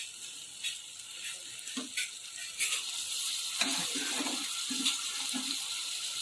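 Soaked soya chunks being drained of water in a home kitchen, with a steady hiss of running water and several soft clattering knocks as the chunks shift, fairly close.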